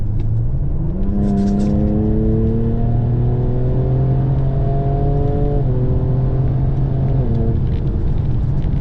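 A GMC Sonoma pickup truck engine revs up hard and holds a rising, droning roar for several seconds, shifting pitch twice as it accelerates, loud and close.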